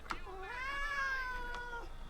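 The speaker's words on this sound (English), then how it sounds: "Yes, Basil, you're a very lovely kitty." Basil the kitty gives a single drawn-out meow, close and fairly soft, its pitch rising and then falling over about two seconds.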